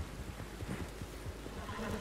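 In the video game Red Dead Online, fairly faint galloping hoofbeats thud in a quick rhythm as a horse neighs, set against a constant wash of background noise.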